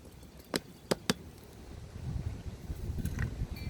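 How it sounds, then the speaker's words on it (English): Low rumbling wind buffets the microphone outdoors, building steadily, with a few sharp knocks early on. "it's windy here today."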